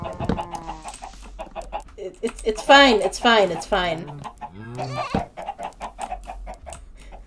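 Video-game chickens cluck and squawk amid farm-animal noises in Minecraft, with a person talking over them, close and fairly loud.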